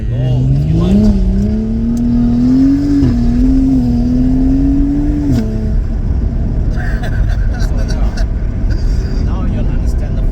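BMW 135i engine pulling hard under acceleration, a loud rising drone with a gear change before the revs drop away, then lower road and cabin noise with someone talking.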